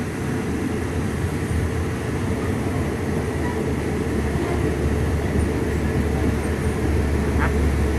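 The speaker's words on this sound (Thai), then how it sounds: "กรุงเทพรอเลืขบวน 255 อยู่ที่สถานี คลองบางตาลนะครับ" Thai passenger train number 255 pulling into Khlong Bang Tan station, a steady loud low rumble of rolling wagons that holds through the whole stretch with no break.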